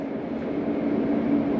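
A train at a Lao-China railway station gives off a steady low rumble with a faint tonal hum, continuous and fairly close, with no voices.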